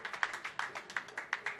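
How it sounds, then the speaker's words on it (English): A crowd at Samstown Bowling Center in Las Vegas claps for a Super Senior bowling quarterfinal, giving a brief, fairly quiet patter of scattered claps that swells and fades in uneven bursts. "Crowd goes wild here at Samstown Bowling Center."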